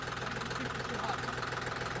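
A tractor engine idles close by with a steady low rumble and a faint knocking pulse, continuous through the short stretch.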